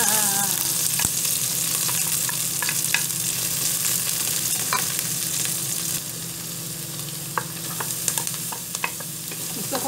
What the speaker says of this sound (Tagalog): Gigisa lang natin. Gisa-gisa lang naman to.